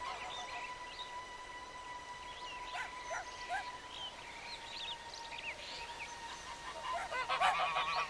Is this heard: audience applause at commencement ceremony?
no